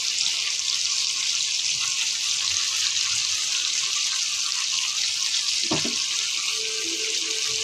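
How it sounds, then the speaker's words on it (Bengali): Puti fish frying in a non-stick pan, a steady broadband hiss of sizzling oil running throughout, with a brief clatter of utensil contact near the end. "এই তো মাছ ভাজি করতে আসলাম, দেখেন না নন স্টিক তাও লেগে যায়"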